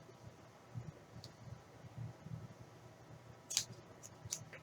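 Scissors snipping fabric strips for a homemade snuffle pad, faint repeated cuts in an uneven rhythm, quiet and close with no talking.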